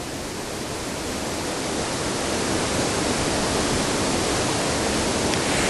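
A river in Teesdale rushes alongside a walking path, a dense, loud, unbroken roar of flowing water with no voices.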